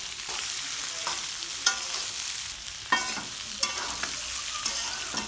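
Beef tripe frying with onions in a pan, seasoned with a little turmeric and salt, giving a steady close sizzle broken by a few sharp scraping stirs.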